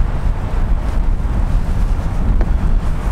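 Strong outdoor wind buffets the microphone with a loud, continuous low rumble and roar that gusts unevenly throughout, with no voices.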